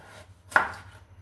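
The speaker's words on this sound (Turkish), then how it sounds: "Kabakları şöyle" A single sharp knife cut thinly through firm pumpkin, a quick crisp chop against a board with a low background hum.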